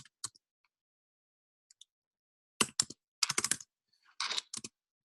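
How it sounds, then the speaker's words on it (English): Card number being typed on a computer keyboard in short, irregular bursts of close key clicks with pauses between, fairly quiet and without talk. "I'll just enter the random card number that I have here."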